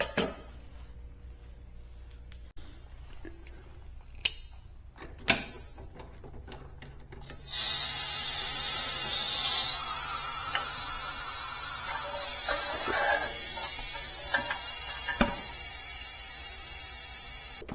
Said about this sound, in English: I'm going to let the compressor run.